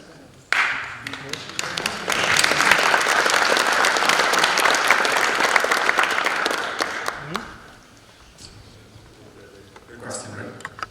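An audience applauds after a talk in a time series session, a dense burst of clapping that starts abruptly, holds steady for several seconds, then fades to scattered claps with quiet voices after.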